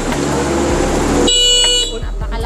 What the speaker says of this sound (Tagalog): Napakalakas na rin ang busina niyan